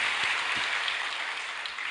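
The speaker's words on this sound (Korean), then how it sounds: "여러분들에게 감사의 박수 한번 올립니다." A church congregation applauds at a testimony meeting, a dense, steady wash of clapping from many hands that carries on evenly without a break.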